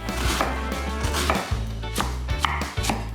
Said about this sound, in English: we're gonna start by chopping up those onions. Nice and thin, just like this.